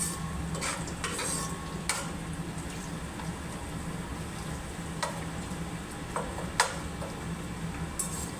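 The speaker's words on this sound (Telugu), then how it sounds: "ఆ లోపు ఇక ఉల్లిగడ్డలు ఈ కలర్ వచ్చేలాగా వేగించాలి" Onions fry in oil for chicken biryani, a constant sizzle broken by repeated close clinks and scrapes of a metal spoon stirring them in the pan.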